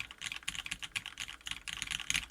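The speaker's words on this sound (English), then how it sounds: "just a bit more typing" Rapid, continuous typing on a computer keyboard during a Nixie-switch keyboard build, close and crisp with steady clustered keystrokes and brief pauses, no voices.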